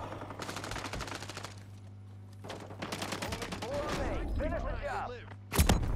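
Rapid automatic gunfire in bursts from weapons in a Call of Duty Resurgence duos match, with rattling volleys separated by short pauses, scattered chirping effects, and a sharp loud blast near the end.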